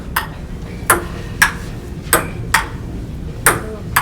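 A table tennis ball ticks against a paddle in a regular rally of about eight crisp, close, bright clicks spaced roughly half a second apart, with no talking.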